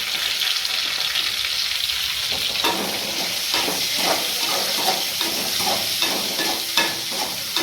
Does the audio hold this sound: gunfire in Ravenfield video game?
no